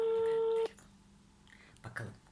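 A telephone rings once with a loud electronic tone that cuts off sharply. Quiet room noise and faint rustling follow.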